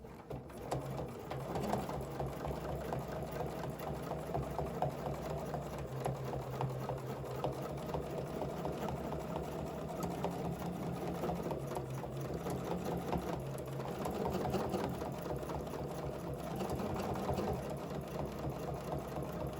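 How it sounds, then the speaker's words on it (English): A domestic sewing machine stitching along a ruler to quilt an overall design, running with a continuous fast mechanical whirr and rapid needle ticking at a steady pace for the whole stretch, fairly close and moderately quiet. "And then the same concept, you're just stitching along, following that path."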